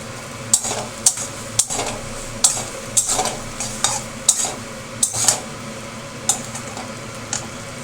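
Macaroni with egg being stirred and fried in a pan, a utensil scraping and clinking against the metal in a steady series of strokes over a continuous close sizzle.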